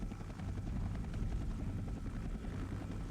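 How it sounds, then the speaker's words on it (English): Large CH-46 and CH-47 military helicopters on a Vietnam-era deployment, a steady low rotor thrum with rapid blade chop, loud and sustained with no voices. "using large CH-46 and 47 helicopters to deploy 105mm howitzers to landing zones"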